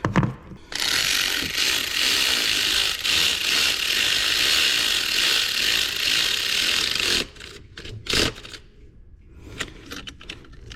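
A ratchet with a shallow socket clicks rapidly and continuously for about seven seconds while tightening a bolt on a Ford Escape, then a few short separate clicks follow, close up and without speech.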